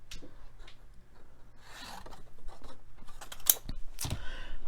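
Paper being trimmed in half with scissors at a crafting worktable: a few close, soft crisp snips and light rustling, with no talk.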